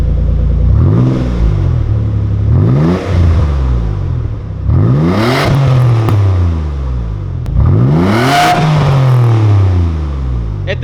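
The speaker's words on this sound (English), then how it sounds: "this exhaust sounds really good" A loud custom exhaust on a Nissan Y33 Gloria/Cedric revs up repeatedly, four rising, snarling pulls, each dropping back to a burbling idle before the next.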